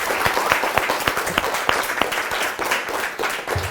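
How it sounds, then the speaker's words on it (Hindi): Medical students give a round of clapping at the end of a talk session, a dense applause texture with a few sharper individual claps standing out nearby, continuous and moderately loud. "एक बार सब लोग बढ़िया सी ताली बजा दीजिए हमारे आकाश बायजूस."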